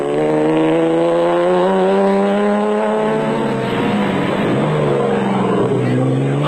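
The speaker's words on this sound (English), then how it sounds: "Barker and Canfer maintained a steady pace in the Barker Performance Product Land Rover" A Barker Performance Products Land Rover competing in the 2003 Sugarbelt 400 off-road race in South Africa, its engine droning loudly and shifting pitch as it drives, with a commentator talking over it.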